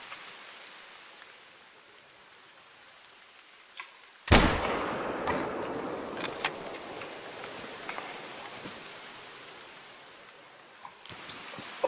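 A single loud rifle shot cracks out during a hunt in theHunter: Call of the Wild, booming across open terrain and trailing into a long outdoor echo over soft ambient noise.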